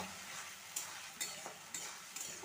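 Ginger-garlic paste sizzling in a pan with peas and onion, a steady soft frying hiss broken by several sharp scrapes and stirs of a spoon against the pan.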